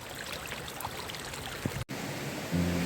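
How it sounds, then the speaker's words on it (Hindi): Steady broadband rush of a forest stream and waterfall near Rishikesh flows continuously at moderate level, with a brief dropout near the end and a low hum rising at the close. "हम झरने के बहुत नज़दीक पहुंच चुके हैं"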